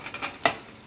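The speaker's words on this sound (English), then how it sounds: "you hear that sizzling?" Onion and pepper frying in a pan give a soft, steady sizzle with a sharp clink of a utensil against the pan near the middle, close by and alone.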